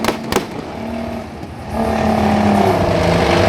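A Bionix armoured fighting vehicle drives and turns at a military open house, its engine a loud steady roar that swells and grows harsher as it maneuvers, preceded by a couple of sharp bangs.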